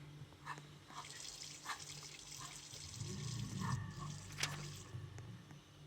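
Water runs from a tap in the Roblox video game as a faint, steady splashing stream with a few small clinks and bumps over it.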